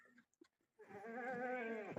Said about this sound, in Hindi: अरसलान भाई, ये है आपका बकरा ब्रीडर।